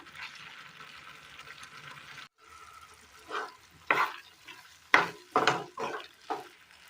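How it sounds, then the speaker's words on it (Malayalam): A Kerala-style pumpkin and chickpea curry simmers in a pot on the stove, giving a soft bubbling hiss, then a few sharp knocks and scrapes of a spoon against the pot, near and with no talking. "ഇതിനി അടുപ്പിൽ കിടന്നൊന്ന് നന്നായി ഒന്ന് തിളയ്ക്കണം"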